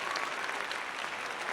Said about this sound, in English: loud clap for all of us